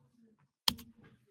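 A single sharp Enter key press on a computer keyboard, close and clear, with faint muffled sounds before and after.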